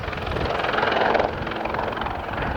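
Westland Wildcat military helicopter performing at an RAF air show, its rotor and engine giving a steady, loud, fairly close whirring roar throughout with no pauses.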